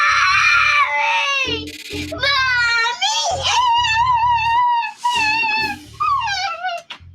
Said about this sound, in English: The tantrum escalated and escalated.